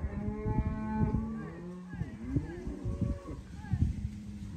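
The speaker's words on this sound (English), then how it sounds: "85 Angus heifers account Paraway Pastoral Co, Oxley Station." Angus heifers, 400 kilos plus, mooing repeatedly at a cattle sale for Paraway Pastoral Co, Oxley Station, with several overlapping lowing calls close by over steady background noise and murmuring.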